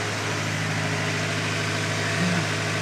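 A tractor engine running at a raised, steady 1600 rpm to drive a crop sprayer, a constant mid-pitched drone with a slight swell near the end.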